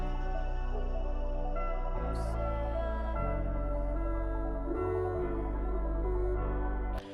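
Instrumental intro of a remix without vocals, smooth sustained synth chords shifting every second or so over a deep bass, with a brief bright sweep, ending abruptly.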